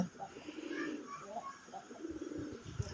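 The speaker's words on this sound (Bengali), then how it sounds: "রাজগোল্লা কবুতর খুব সুন্দরভাবে ডাকাডাকি করতেছে" Red Rajgolla pigeons coo repeatedly up close, a rolling, throaty call with a soft rhythmic pulse that continues throughout.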